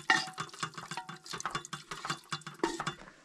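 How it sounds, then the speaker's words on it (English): A spoon stirs beef broth and food in a pot at a campsite, giving repeated scraping clinks of metal on metal in a quick, uneven rhythm, close and fairly quiet, with no talking. "And just stir it all around."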